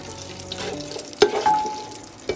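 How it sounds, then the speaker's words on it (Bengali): Cashews and raisins stirred in a little ghee in a pan, soft frying hiss with a couple of sharp spoon knocks against the pan, brief and close. "ঘিয়ের মধ্যে নাড়াচাড়া করে নিয়ে"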